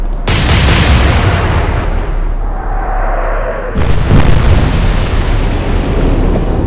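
Naval guns fire in the Atlantic Fleet naval battle video game: a loud opening blast followed by a long rolling rumble, then a second heavy boom partway through, with no talking.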